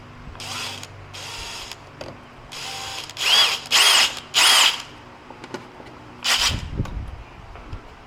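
A power drill bores through plastic while installing a grille light on a 2024 Toyota Tacoma, with several short bursts of whirring and a few longer runs separated by pauses.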